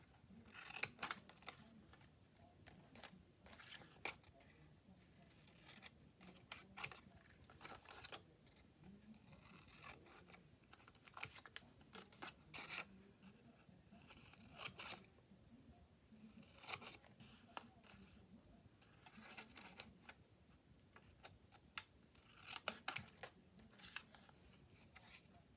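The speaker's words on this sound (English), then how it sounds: "So let's just start cutting." Scissors cutting out paper triangles, with repeated crisp snips in irregular bursts that are close and fairly quiet, plus occasional paper rustling between cuts.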